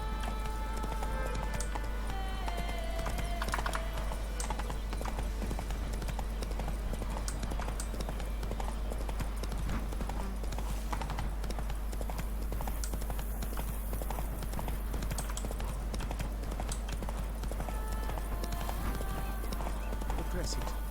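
Roach the horse gallops in The Witcher 3 with steady, rapid hoofbeats that run through the whole stretch, under a constant low hum and a voice speaking at times.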